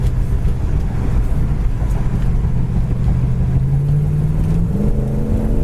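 A 1972 Buick Skylark GS with a 4-barrel carburetor cruises down the road, its engine a loud, steady low drone inside the cabin, with the pitch rising gradually toward the end.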